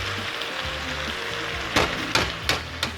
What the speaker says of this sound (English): So let's go ahead and put in the eggs.